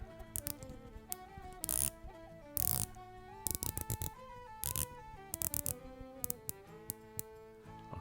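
The 24-hour GMT bezel of a Seestern S456 Blue Pearl watch is rotated, giving close, crisp ratchet clicks in short bursts over soft tonal background music.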